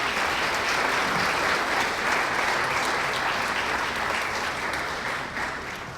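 A hall of fame induction crowd honoring a 2006 girls basketball team gives a sustained round of applause. The clapping is full and even, then begins to taper off near the end.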